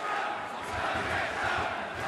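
Wrestling crowd in a Phoenix arena at an AEW show roars steadily and loudly throughout, a dense continuous wall of cheering and shouting voices.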